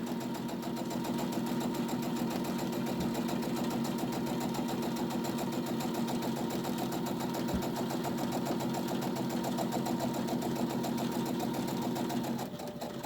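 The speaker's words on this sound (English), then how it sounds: "we are going to come right up along the last side of the bag, and we are going to just sew" A sewing machine runs without a break, stitching straight up the last side of a tote bag with a fast, even mechanical hum and needle clatter, close and alone, and it slows just before stopping near the end.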